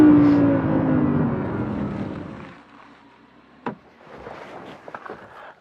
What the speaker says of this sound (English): What I really want to show you though is what kickdown feels like, which from 40 miles an hour is a bit like this.